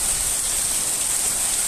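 Heavy rain pours down at half past five in the morning in Itapura, a steady, dense hiss heard from inside a house, loud and unbroken with no voices.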